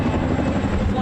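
Attack helicopters pass overhead at the Korean DMZ, a loud, steady rotor drone filling the scene.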